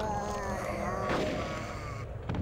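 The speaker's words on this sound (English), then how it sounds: "Conker, you take way too damn long. To pump a fucking shot." Shotgun fire in Conker's Bad Fur Day, a loud booming blast rising out of busy game noise and music, with a single sharp report near the middle and a rumbling tail.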